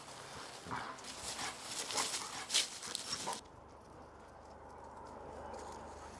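Dogs at play race around over a toy, their scrabbling paws, panting and small whimpers rising into a busy burst of activity before the scene cuts abruptly to a quiet, low ambient hush.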